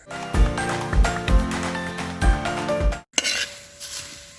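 A spoon scrapes and knocks against a pan in a steady rhythm of about six strokes as flattened rice (aval) is stirred into hot jaggery syrup with coconut for Kerala aval vilayichathu. A short pause follows, then a soft sizzle.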